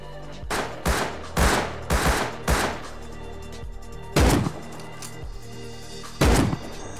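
Gunfire in the video game Rust during a PvP raid, several loud, close bursts of rapid shots, a cluster early on followed by two separate bursts later.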